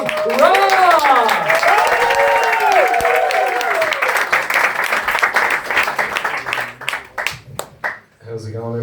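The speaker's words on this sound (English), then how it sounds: "give a very nice warm round of applause to welcome Rob!" Audience at a first stand-up comedy set in Zurich applauds and cheers to welcome the comedian Rob. Clapping and whoops are loud and sustained, overlapping crowd voices, then trail off into scattered claps and murmurs.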